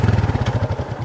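A motorcycle engine with a faulty automatic start sputters with rapid, even pulses, loud and close.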